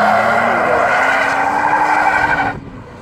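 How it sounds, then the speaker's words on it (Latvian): Volvo turbo diesel car racing at an autocross in Smiltene, close and loud: a sustained engine roar mixed with tire skidding, cutting away sharply after about two and a half seconds, with no talk. "Volvo turbo dīzelis."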